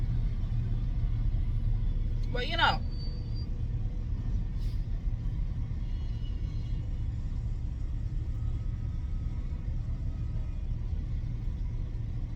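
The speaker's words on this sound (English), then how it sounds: "We're stuck in traffic." A car sits in slow city traffic, a low steady engine and road rumble filling the cabin, with a brief squeal and a few quiet words spoken partway through.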